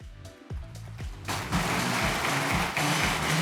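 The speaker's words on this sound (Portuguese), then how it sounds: "Aplausos, presidente." A convention audience claps, starting with a few scattered claps and swelling into dense, steady applause that fills the room.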